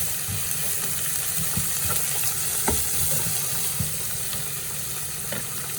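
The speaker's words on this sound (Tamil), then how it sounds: "பூண்டு எல்லாத்தையும் போட்டு வடிவாக கிளறுவோம்" Garlic and onion fry in a pan while being stirred, a steady low sizzle broken by soft scrapes and clacks of the spoon, close and alone.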